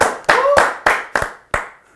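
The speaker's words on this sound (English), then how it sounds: "do we, as rival fans, give them a round of applause for the show?" Six loud, sharp hand claps at an irregular, slowing pace from rival fans applauding the Chelsea side as champions of England, each clap decaying quickly into near silence.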